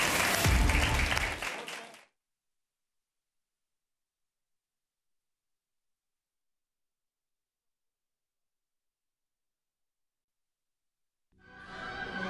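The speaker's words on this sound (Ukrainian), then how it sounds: "Аплодисменты, дорогие гости." Studio audience applause on a Russian television talk show, a loud burst that cuts off after about two seconds, then silence until a second round of clapping swells up at the very end.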